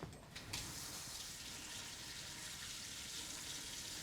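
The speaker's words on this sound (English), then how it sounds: "So I'm just going to add a bit of water," Warm water poured steadily from a tap into dumpling dough of flour, salt and eggs, a continuous close rushing splash that holds at an even level throughout, with no talking.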